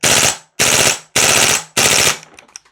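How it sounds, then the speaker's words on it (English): A Vorsk VMP-2 gas blowback airsoft rifle fires four loud close bursts on full auto, each a rapid rattle of shots about half a second long separated by short gaps, followed by faint clicks. "Let's do a bit of full auto."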